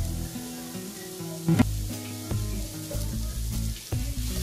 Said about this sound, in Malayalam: സവാള നന്നായിട്ട് വഴറ്റിയെടുക്കാം.